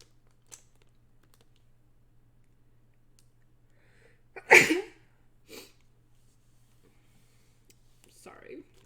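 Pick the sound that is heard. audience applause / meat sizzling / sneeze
sneeze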